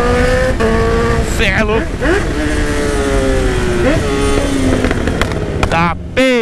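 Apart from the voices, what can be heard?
Honda CB1000 motorcycle accelerating and revving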